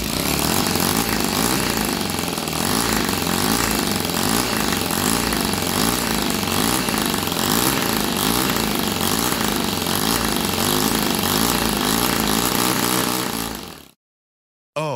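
A model engine with a new rotary valve design runs hard and continuously, a loud buzzing, rasping drone like a small two-stroke, holding steady for about fourteen seconds before cutting off abruptly into silence.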